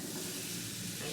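A piece of brioche French toast sizzles in a frying pan as it is flipped over, giving a continuous, fairly soft hiss.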